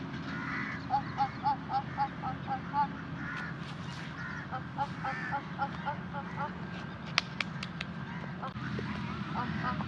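Ducks call on the water, giving a run of short repeated honking quacks at a moderate distance over a steady outdoor background, with a few sharp clicks and faint voices.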